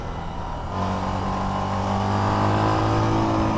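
An SWM Outlaw 500 motorcycle accelerates out of a corner, its engine note rising in a steady, building drone with clear harmonic tones as the revs climb.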